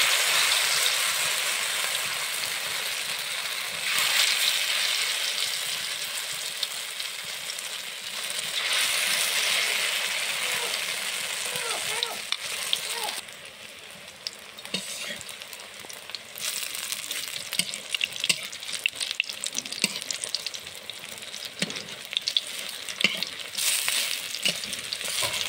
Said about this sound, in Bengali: সুন্দর হয়ে লাল হয়ে ভাজা হয়ে গেছে।